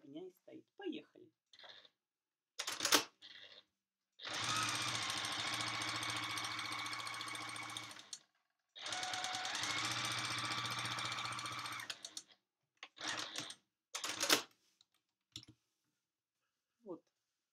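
A sewing machine stitches a fabric appliqué with dark thread in two sustained runs of steady mechanical whirring, close and clear, separated by quiet gaps and brief clicks and handling noises, with someone speaking in between.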